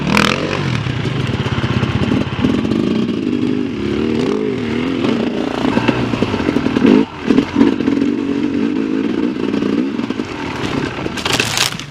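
Enduro dirt bike engine running on at a high idle with the clutch pulled in, a loud, steady, close mechanical drone with rattling texture that lasts throughout and has a brief dip and some clatter partway through.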